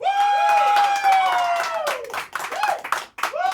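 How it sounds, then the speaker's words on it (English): An audience at a comedy joke competition votes by applause for a comedian: loud sustained whoops and shouts ride over clapping, then break into scattered bursts of claps and cheers toward the end. "By applause, I'll go for Ben."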